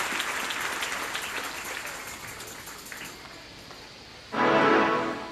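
Church congregation bursting into loud applause after a stretch of lower crowd noise, clapping and cheering swelling suddenly near the end and staying strong.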